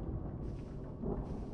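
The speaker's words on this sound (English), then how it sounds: "there has to be thunder." Low, steady thunder rumbles for a moment in the horror video game Propagation: Paradise Hotel, with no voices over it.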